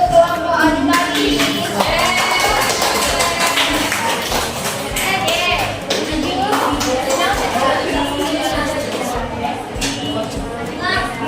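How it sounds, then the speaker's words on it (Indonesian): An audience claps for a student group in an Indonesian classroom guidance session, a continuous patter of scattered hand claps with voices chattering throughout. "Tepuk tangan untuk kelompok auditori."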